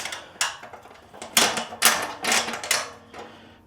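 Body panel pieces are bolted together, a series of irregular close metallic ratcheting clicks and clunks in quick bursts.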